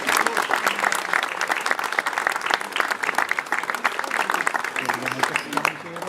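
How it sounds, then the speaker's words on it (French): Audience applauding steadily after a chocolate and truffle demonstration, a dense, fairly loud wash of many hands clapping that holds for the whole stretch with a low voice murmuring beneath it. "Donc on peut les applaudir parce qu'elles ont bien travaillé."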